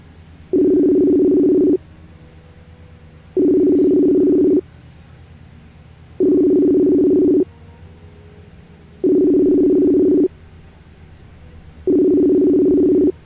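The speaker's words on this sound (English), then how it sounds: "Come on, Johnny, answer your phone." A telephone rings to call someone, five even ringback tones about a second long, evenly spaced with short gaps, loud and clear with no voices.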